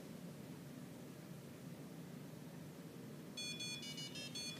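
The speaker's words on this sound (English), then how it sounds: "And you'll hear this beep." A piece of lab equipment gives a short electronic beep as it powers up after being plugged into a power strip, coming in near the end over steady background hiss.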